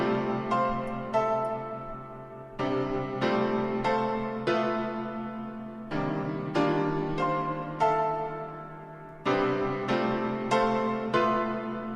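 Synth chords from an FL Studio breakdown section sound in sustained blocks, shifting every couple of seconds, with bright plucky attacks layered over a steady low pad and no voice.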